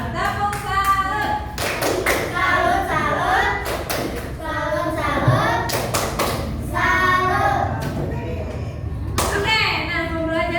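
Students in a classroom perform the tepuk salut clapping chant, with bursts of rhythmic hand claps alternating with their chanting voices, close and lively throughout.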